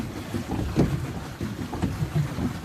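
A rented catamaran moves along a river, with water sloshing and lapping around the hulls, heavy wind buffeting the microphone and muffled movement on board, all fairly loud and close.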